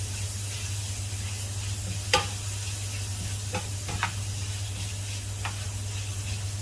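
Pappadam thoran sizzles softly in a pan on low heat as it is stirred, a steady hiss under a low hum, with a few sharp clinks and scrapes from the spoon.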